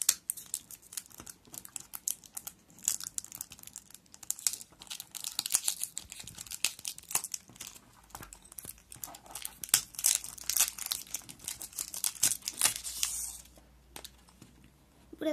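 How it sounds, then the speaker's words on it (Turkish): Packaging on a surprise toy box crinkles and tears close by in irregular bursts of crackling and rustling, with no talking. "Şimdi ikinci kutumuzu açıyoruz."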